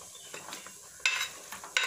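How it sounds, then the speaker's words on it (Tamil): Avial vegetables are stirred in a pot for a Kerala-style dish, with soft scraping strokes and two sharper clinks of the spoon against the pot, fairly close and quiet, with no talking. "இப்போ இதை நல்லா மிக்ஸ் பண்ணி விட்டுக்கலாம்."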